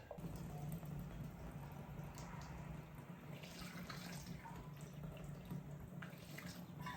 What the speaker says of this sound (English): now we're going to pour some water in there and try to clean out any junk